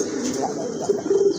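Lahori pigeons in red plumage coo in low, throaty bursts, swelling toward the end into a few rounded, repeated notes, close by and fairly loud over faint background chatter.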